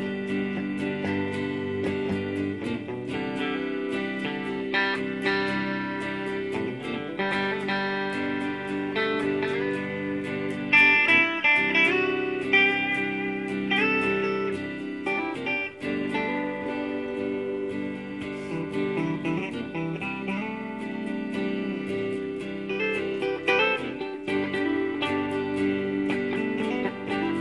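Squier HSS Stratocaster electric guitar played continuously through an amplifier, with sustained chords and picked notes ringing at a steady, fairly loud level and no talking over it.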